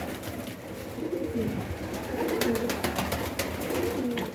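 Low, throaty cooing from several pigeons close by, overlapping and continuous, with some fluttering and rustling in the background.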